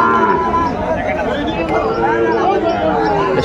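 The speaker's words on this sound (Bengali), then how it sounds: "সাইবালা ষাঁড় বাচ্চা, বেশ কোয়ালিটি সম্পন্ন বাচ্চাগুলো।" Sahiwal bull calves moo at a busy cattle market, several drawn-out lowing calls rising over a constant babble of crowd chatter and nearby talk.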